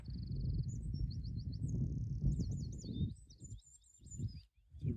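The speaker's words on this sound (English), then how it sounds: "There's a wren singing," A wren sings at Cape Wrath on the northwest tip of mainland Scotland, a rapid high trilling song with quick repeated phrases running steadily over a strong low rumble of wind.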